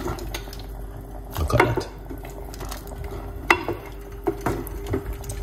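Stewed red kidney beans with garlic stirred with a spoon in a pot, giving soft wet squelches and a few sharp clinks of the utensil against the pot, with a brief spoken remark.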